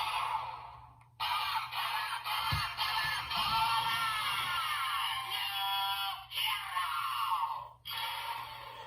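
Electronic sound effect from a DX Geardalinger Zenkaiger toy, a bright synthesized jingle with a voiced announcement playing loud and steady for several seconds with brief cuts.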